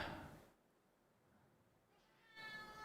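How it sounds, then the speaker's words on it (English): A pet cat meows twice, a short cry at the start and a drawn-out, rising meow at the end, close and fairly loud with a quiet gap between. "You guys hear him meowing? He's been meowing."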